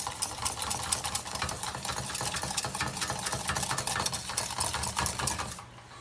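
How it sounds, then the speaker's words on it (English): A thickening flour sauce for a Parmesan cheese soufflé is stirred constantly in a pan on the stove, giving a close, loud, continuous rapid scraping and swishing that cuts off at the end. "We should stir constantly."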